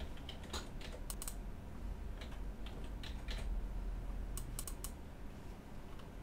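A URL being typed on a computer keyboard: quiet, close key clicks come in short irregular bursts with brief pauses between, over a faint steady room hum.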